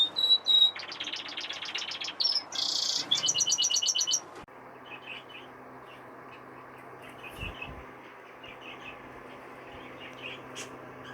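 Fife canaries chirping and trilling loudly up close in bursts over the first four seconds, followed by quieter, more distant cage chirps and twitters against a steady background hum.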